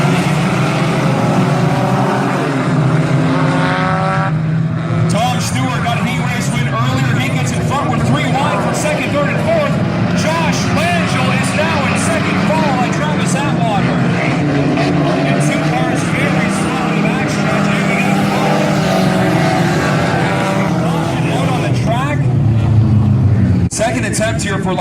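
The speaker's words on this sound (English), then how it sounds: "Sam Rogers and Nick Sadow, a jam-packed 4-cylinder field for 12 laps of racing at Valley Raceway" A field of 4-cylinder cars racing on the dirt track at Valley Raceway gives a continuous loud engine roar that rises and falls as they pass, under a race announcer's talk.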